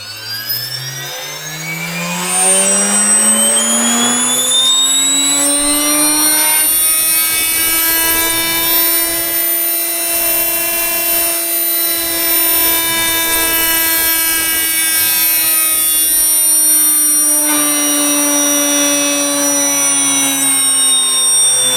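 An R/C motor on a test rig spins up to about 20,000 RPM, a loud, close, sustained high-pitched whine that climbs in pitch at the start and then holds steady with slight wavering.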